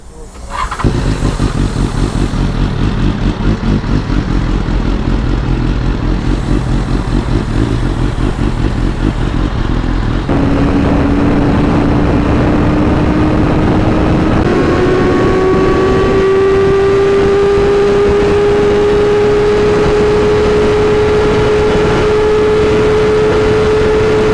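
A motorcycle rides at very high speed. Its engine is a loud, constant close-up roar mixed with wind rush, and a rising whine climbs steadily as it accelerates.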